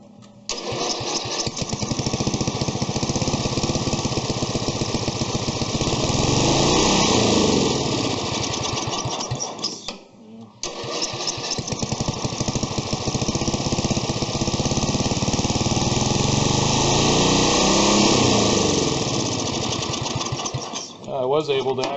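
A tractor engine idles steadily after carburetor cleaning, a loud, continuous rough drone that dips briefly near the middle before resuming at the same level.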